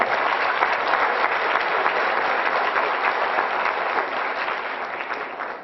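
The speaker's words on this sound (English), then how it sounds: "Let's give them all a nice round of applause." Audience applause for a group of second graders at a school program, a steady dense wash of clapping from many hands that holds throughout and tapers slightly at the end.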